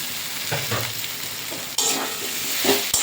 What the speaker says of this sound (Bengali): এবার এঁচোড় আর আলুটা দিয়ে দেবো, আগে থেকে ভেজে রাখা এঁচোড় আলু।